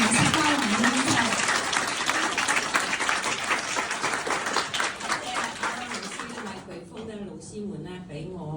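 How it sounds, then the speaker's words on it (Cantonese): Warm applause from an audience welcoming a teacher onto the stage at a talk, dense steady clapping through most of the stretch that thins out toward the end, with some voices mixed in. "熱烈嘅掌聲歡迎我哋阿 Vin 老師"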